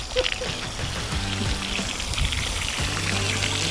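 Water pours steadily from a watering device with a continuous splashing trickle, close by and fairly loud, while a man and a woman exchange a few words.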